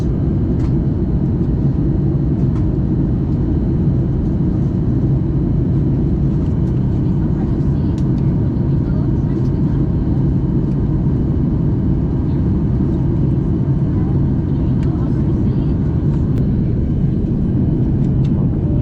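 Steady, loud cabin rumble of a Batik Air airliner descending to land on a Kuala Lumpur to Bangkok flight, a dense low engine and airflow roar that holds constant throughout with no clear breaks.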